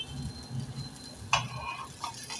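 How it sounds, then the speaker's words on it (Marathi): Potato patties fry in a pan with a steady low sizzle, broken by a few close scraping and tapping sounds as the patties are turned or moved. "बाजूने पण ते व्यवस्थित असे फ्राय करून घ्यायचे आहेत"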